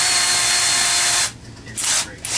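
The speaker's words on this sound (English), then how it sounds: "the quality of the drill I'm using. Bosch. 18 volt lithium" A Bosch 18 volt lithium-ion drill whirs loudly and steadily while driving a screw into wooden furniture, then stops, leaving a couple of short, fainter bursts of the motor.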